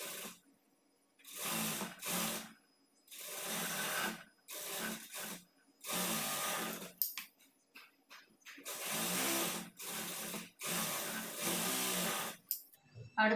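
A sewing machine stitches a blouse sleeve in repeated bursts of close whirring, each a second or two long, separated by short pauses.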